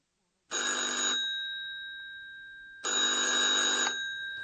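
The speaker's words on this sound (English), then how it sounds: "The telephone rings and Andreas picks up the receiver." A telephone rings at a hotel reception desk: two loud, close electronic bell bursts, the first under a second long and the second about a second long, with a gap of more than a second between them.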